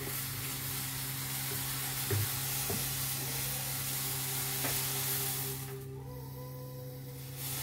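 Masala tea simmers with spices in a pan on the stove, a steady close bubbling hiss with a constant low hum beneath it that drops away near the end.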